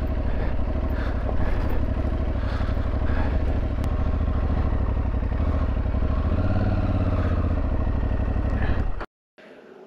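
Aprilia Tuareg 660 adventure motorcycle ridden off-road on slow technical terrain, a steady close engine drone with clattering and wind noise, ending abruptly in silence near the end.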